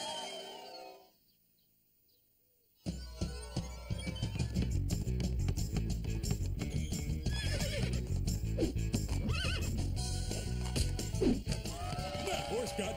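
A horse neighs and whinnies amid a busy cartoon soundtrack, with hoof clip-clops, music and other effects layered after a brief quiet gap.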